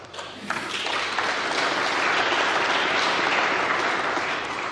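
Dense, steady applause from a large audience at a speech by Poroshenko, rising quickly and holding loud and continuous to the end with no voices above it.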